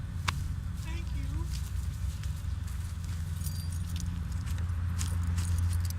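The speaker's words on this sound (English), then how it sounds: "You dropped your keys" Keys dropped and jangling, metallic clinks over a steady low rumble of outdoor ambience, with people talking nearby.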